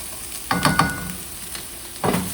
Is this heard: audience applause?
no